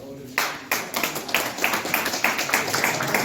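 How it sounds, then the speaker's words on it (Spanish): Scattered clapping from a class audience at a philosophy lecture, a few separate hands tapping in an uneven rhythm after a short pause, fairly close and modest in volume, with talk mixed in underneath. "un aplauso"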